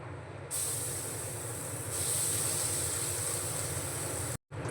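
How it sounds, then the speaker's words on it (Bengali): Chana dal paste hits hot oil seasoned with nigella seeds and asafoetida for a vegetarian dhokar dalna, setting off a loud, steady hissing sizzle that swells and holds, then briefly cuts out near the end. "আগের থেকে যে ছোলার ডালটা পেস্ট করে রেখেছিলাম"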